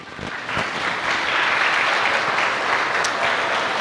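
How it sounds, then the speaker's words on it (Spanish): A church audience breaks into sustained applause for two people, a dense wash of clapping that swells and holds steady for a few seconds. "Un aplauso a estos dos personajes."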